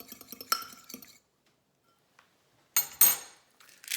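A fork briefly whisks egg and cream for a tonkatsu egg wash, giving quick close clinks against a dish, then a pause and a few sharper taps.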